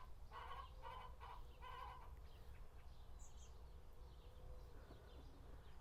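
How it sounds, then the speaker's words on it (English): Backyard hens cluck from a coop near a garden pond while laying, in short bursts of clucking over a steady outdoor hum and faint insect buzz. "do you hear the chickens?"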